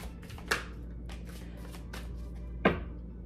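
Tarot cards being shuffled in the hands, two distinct crisp riffling snaps separated by about two seconds, with softer card rustling between them, close and fairly quiet in a calm room.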